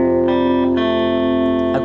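An electric guitar with effects holds the notes of a riff so they ring together as one sustained, reverberant chord, with a fresh pluck midway through and a short note change near the end.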